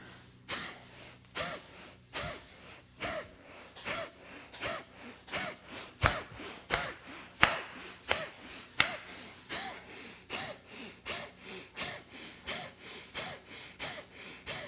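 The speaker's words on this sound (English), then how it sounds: "keep breathing out forcefully through the nose" Forceful exhales through the nose, repeated in a steady rhythm of sharp, breathy snorts about one per second, close and clear with no talking.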